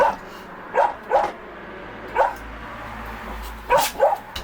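Repeated dog barks come in short pairs and singles, spaced irregularly over a few seconds, fairly close and clear against a low steady room hum, with no voices.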